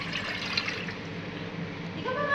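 Water being poured into a measuring cup while cooking pineapple jam, a steady close splashing trickle running the whole time with a brief brighter splash near the end, no voices.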